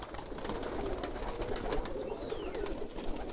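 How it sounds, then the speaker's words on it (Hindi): Pigeons kept for sale, desi and Allahabadi breeds among them, coo softly and steadily among faint flock chatter, with no speech. "ये सब कबूतर सेल के लिए निकाले हैं"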